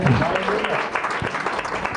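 A church congregation claps together, a quick voice at the start giving way to a dense, continuous patter of many hands at close to moderate distance.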